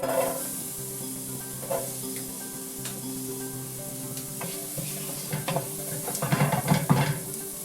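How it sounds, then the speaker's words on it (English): Onions sizzling in oil in a ceramic non-stick pan, a steady close hiss with occasional stirring scrapes that grow busier toward the end. "So we're going to put our onions in there first."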